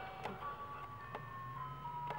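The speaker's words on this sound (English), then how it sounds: "Ice cream truck." An ice cream truck passes in the distance, its faint, steady chime tune heard over a quiet indoor room with a few soft knocks.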